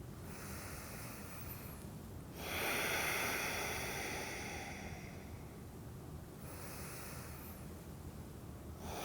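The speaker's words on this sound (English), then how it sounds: "you can simply just breathe and let it out through your mouth" A slow, audible exhale through the mouth during a guided yoga session, a soft breathy rush rising and fading over a few seconds against a quiet, hissy background.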